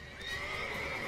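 A horse whinnies in a long, drawn-out neigh in The Witcher 3: Wild Hunt over a steady background of game noise, fairly faint and continuous.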